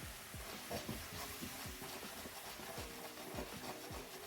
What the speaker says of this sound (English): So I'll add a little bit of stock, just to get that flavour off the bottom of the pan.